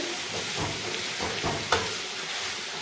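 Duck meat fries in a pan with a continuous close sizzle, broken by a few soft stirring scrapes and one brief clack, with no talking.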